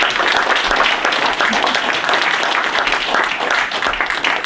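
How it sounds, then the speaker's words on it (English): An indoor audience at a community forum on a regional fire authority ballot initiative applauds steadily, a dense, even wash of many hands clapping at close range with no talking. "Yeah, you can applaud for them."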